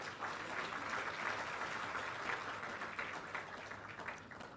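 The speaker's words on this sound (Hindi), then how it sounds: "जोरदार तालियां।" Sustained audience applause at an official honoring ceremony in Panchkula for a chief minister, steady dense clapping throughout with no voices over it, easing slightly near the end.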